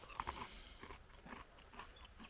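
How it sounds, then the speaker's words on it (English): Quiet crunchy chewing of honey roasted peanuts from a field ration snack, close to the mouth with irregular bites and crunches, no talking. "Nice crunchy snack, sweet, salty, great to have with your dinner"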